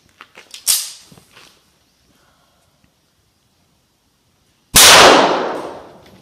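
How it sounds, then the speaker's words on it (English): A .45 ACP pistol fires into a block of ballistics gel, one loud sharp report with a long decaying tail, preceded by a few small clicks and a fainter crack early on. "Misplaced my shot, came in bottom low corner. Still went through ballistics gel."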